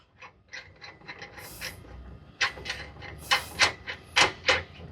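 Small metal stop nut being threaded by hand onto a bolt behind an actuator mounting bracket, giving a run of quiet, close ratcheting clicks and scrapes that grow sharper and more spaced toward the end.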